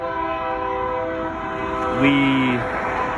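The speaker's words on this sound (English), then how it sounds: "there's a train over there." A train sounds a short horn blast, a steady two-tone note lasting about half a second, over a constant rumbling background drone and the ongoing hum of its passage.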